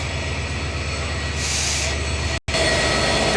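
Train and locomotive moving at Parbatipur Junction, with the Chilahati Express intercity stopped during a locomotive change, as a steady close rumble of rolling stock and wheels holds throughout, briefly cut by a short gap near the end.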